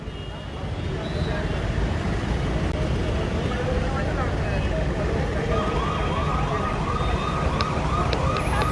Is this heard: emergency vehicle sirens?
yes